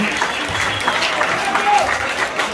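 Dense applause from an audience at an engagement and birthday gathering for a wounded soldier, steady clapping filling the whole stretch with a little crowd murmur beneath.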